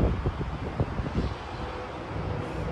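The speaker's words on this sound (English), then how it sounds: "as you can see, it's windy" Gusty wind buffets the microphone, with low rumbling bursts early that settle into a steady, broadband rush.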